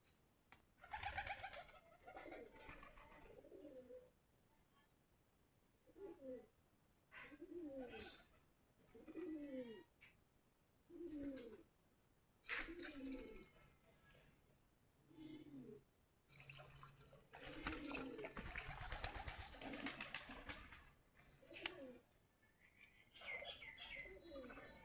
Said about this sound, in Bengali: সবগুলা দেশি কবুতর।